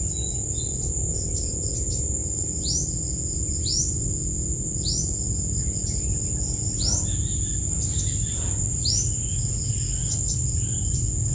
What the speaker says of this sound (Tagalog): May ibon na naman mga tol. May ibon.